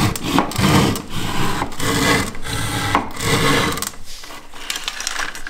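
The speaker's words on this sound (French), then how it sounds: "il est en train de le râper avec la scie japonaise" Rough rasping strokes of a Parkside Japanese saw scraping back and forth across plasterboard, steady and close, with brief pauses between passes.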